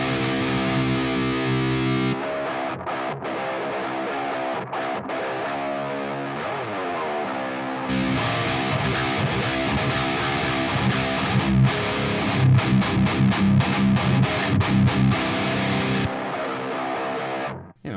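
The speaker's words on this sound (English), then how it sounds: "And then there's a delay, reverb, and this kind of lo-fi sound." Electric guitar played through an amp-simulation plugin with delay, reverb and a lo-fi effect, sustained distorted chords and note runs with echoing tails, loud and alone with brief pauses between phrases.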